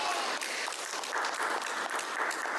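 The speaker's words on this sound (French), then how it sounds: "Applaudissez-le." Audience applause fills the room, a steady dense clapping from a crowd that holds at an even level throughout with no talk over it.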